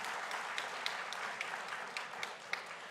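An audience at a high school biliteracy seal ceremony gives a soft, distant round of applause, a steady patter of many hands with a few sharper claps standing out.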